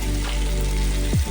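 Chopped capsicum and vegetables, lightly salted, fry in a pan with a bright, close sizzle that runs for a moment before a short scrape or stir near the end.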